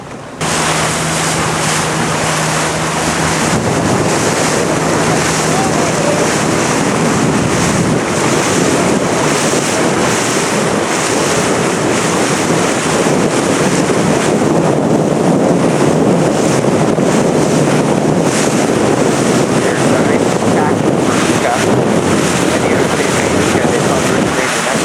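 Racing sailboats out on open water, steady wind buffeting the microphone over continuous wave and surf wash, with a faint low hum early on and no clear voices.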